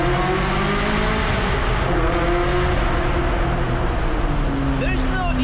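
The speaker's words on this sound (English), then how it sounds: "There's no even need to redline to hear this amazing soundtrack. It's like an old school Formula 1 car." A Ferrari F355 with straight pipes roars through a tunnel, a loud, continuous, harmonically rich engine wail that holds steady and echoes off the walls.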